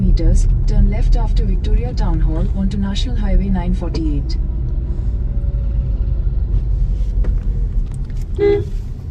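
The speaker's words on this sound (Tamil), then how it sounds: "அப்படியே டிராஃபிக்கா" Steady road traffic rumble in Coimbatore city, with vehicles going by and a brief horn toot, while people talk over it throughout.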